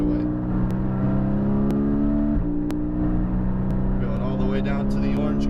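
Race car on a Las Vegas track accelerating down the straightaway, a loud, steady engine drone with rising harmonic tones, heard from inside the car beneath a driving instructor's talk.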